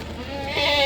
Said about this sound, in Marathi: हे बघा शेळी